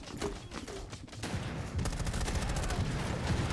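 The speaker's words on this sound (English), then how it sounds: "Cluster charge deployed. Detonate cluster charge." Explosions from a cluster charge detonating in a video game shooter, a burst of loud blasts and crackling gunfire-like pops that rolls on continuously for several seconds with no pauses.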